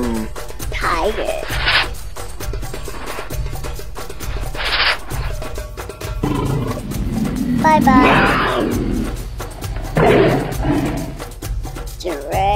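A tiger roars in a children's animal-learning video set in the jungle, the tiger walking in snow; a few loud roaring bursts stand out over background music while a narrator speaks.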